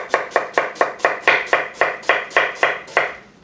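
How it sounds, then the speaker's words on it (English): A knife cuts radial slices all the way through an onion on a board, about eleven crisp, evenly spaced chops that sound close and loud, with no talking. "I'm literally just going to make radial slices all the way through the onion"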